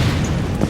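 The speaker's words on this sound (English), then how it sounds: "so I'll use a fire grenade." Fire grenade blast in Metal Gear Solid 4, a single heavy low boom that rolls on for under a second with no voices over it.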